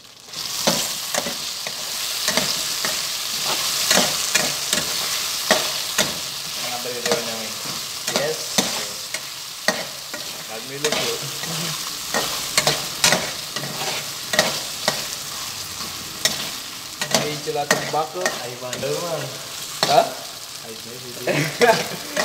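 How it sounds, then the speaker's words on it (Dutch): Breakfast food sizzles steadily in a frying pan while being stirred, with repeated scraping strokes and crackles standing out over the continuous hiss, close and fairly loud. "Laten bakken."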